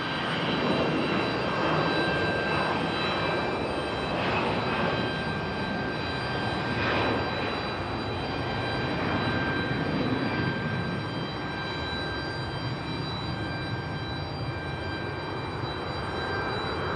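An Endeavor airliner takes off from runway 5 left at Raleigh-Durham, a steady, broad engine roar with a faint tonal whine throughout, fairly close and continuous.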